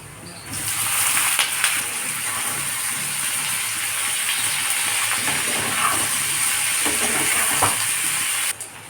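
Raw banana pieces rubbed with salt and turmeric go into oil where onions have browned, giving a loud, steady sizzle and frying hiss with occasional stirring scrapes throughout.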